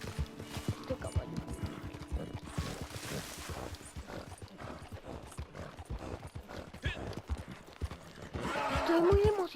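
Horse galloping in Red Dead Redemption 2 online, a fast, steady drumming of close hoofbeats running throughout, ending in a loud whinny, with occasional talk over it.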